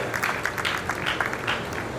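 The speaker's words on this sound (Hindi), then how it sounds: "पीछे तक के लोग एक बार आकाश भर तालियां बजा करके सूचित कर दें कि आदरणीय भाई साहब को आप लोग सुनने के लिए तैयार हैं" An audience at a Durga Puja festival gathering in Surat claps in a dense, continuous wash that sounds fairly faint and distant, with a murmur of voices mixed in.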